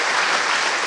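Steady applause from a conference audience, dense clapping that fills the whole moment without a break.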